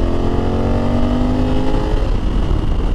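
A Honda motorcycle with a dual clutch transmission in sport mode 3 holding its gear, a loud, close engine drone sustained at high revs with a rising whine and no shift break.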